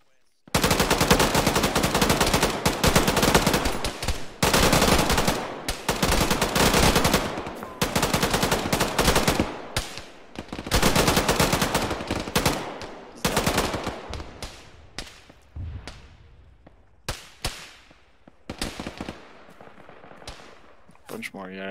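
Heavy automatic and single-shot gunfire in the ShackTac military video game, loud bursts and sustained volleys in close succession, thinning into sparser shots toward the end, with radio voices talking underneath.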